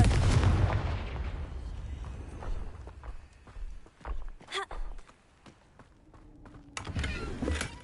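The Confringo blasting spell goes off in Hogwarts Legacy with a loud, booming explosion at the start, followed by quieter footsteps and scattered thuds, then another burst near the end.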